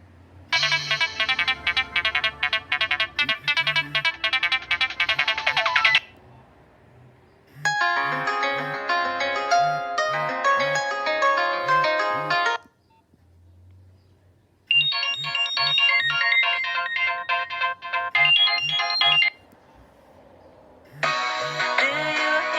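A series of Nokia 2660 phone ringtones, bright electronic melodies over a pulsing low beat, each playing for several seconds and separated by short silences.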